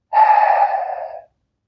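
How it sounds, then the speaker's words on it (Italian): A single steady exhalation during a diaphragmatic breathing exercise, a close, breathy hiss lasting about a second before fading out, alone with no talk. "c'è questo suono di espirazione"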